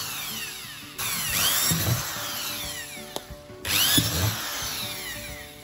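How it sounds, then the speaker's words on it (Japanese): An electric drill bores 5 mm holes in a kayak console box in two whining bursts, each rising then settling, close up, with a short click between them. "先ほどマーキングした場所に穴を開けていきます。"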